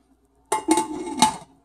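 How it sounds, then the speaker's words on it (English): A pressure cooker lid being closed before cooking chana dal, giving a short burst of metallic clanks and scraping, about a second long, with a sharper clink near the end, close and fairly loud in a quiet kitchen. "Close the lid and put the whistle."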